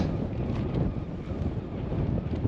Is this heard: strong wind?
yes